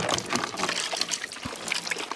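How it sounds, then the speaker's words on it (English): Fresh water pours steadily from a container for pigs, a continuous splashing trickle close by with faint background noise and no talk. "All right, piggies, give you guys some water."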